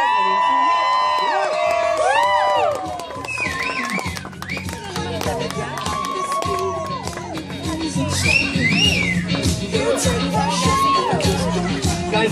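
Wedding guests cheer, whoop and shout for the newlyweds at a reception, a loud lively crowd roar with rising whistles and excited voices.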